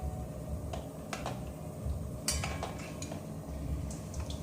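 Soya chunks mixed with coriander, chili flakes and salt are stirred in a pan. Scattered spoon scrapes and light metallic clicks sound at close range over a soft kitchen hum.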